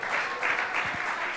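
Church audience applause, a steady wash of many hands clapping with no speech over it.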